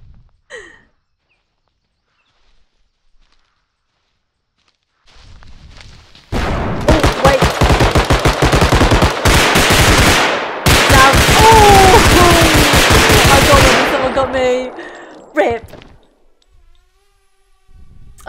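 Rapid bursts of automatic gunfire in the video game Bodycam, a loud sustained volley lasting several seconds with a brief gap midway, preceded by faint shots and followed by quieter trailing noise.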